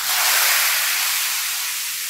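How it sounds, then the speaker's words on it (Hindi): Hot tadka tempering is poured over kadhi curry and gives off a loud, steady sizzling hiss that starts strong and holds for a couple of seconds, easing only slightly, with no talking. "ये देखिए मजेदार सा हमारा तड़का रेडी हो चुका है। अब हम कड़ी के ऊपर डाल देंगे"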